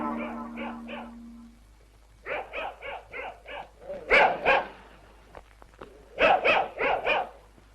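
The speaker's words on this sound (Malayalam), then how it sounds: "അത് വല്ലാതെ കുരയ്ക്കുന്നില്ല." A dog barking loudly and close, in rapid bursts of several barks separated by short pauses, with some barks louder and sharper than others.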